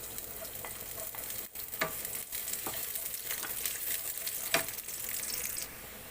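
Onion and garlic frying in hot olive oil, a steady bright sizzle with scattered crackles and a few sharp spatters, fairly quiet and uninterrupted by voices.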